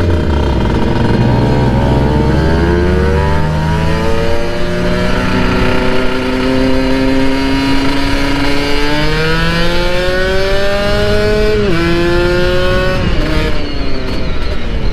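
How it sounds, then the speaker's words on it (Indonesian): Modified motorcycle ridden fast, its engine loud and close, with rising and falling revs as it accelerates through gears, continuous throughout with wind roar. "Motor kencang gak ada remnya piye ini."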